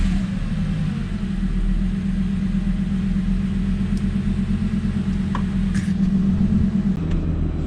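A Lamborghini Gallardo in race mode with a Sprint booster throttle controller idles with a steady, loud, close engine rumble, and quick throttle jabs add brief swells.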